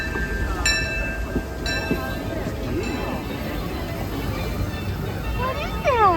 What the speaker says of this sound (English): Look at all the choo-choo train.